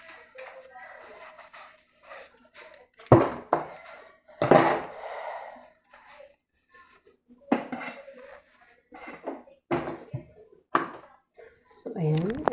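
Cleaned metal spoons and a ladle being handled and set down after washing, giving a few sharp clatters and clinks between quieter shuffling, with stretches of near silence.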